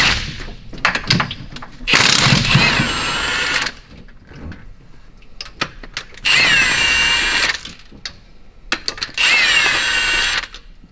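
A 1/2-inch Milwaukee power tool, likely an impact or drill used on an engine hurt by too much nitrous, whirs loudly in three bursts of roughly two seconds each, separated by clanks and handling noises.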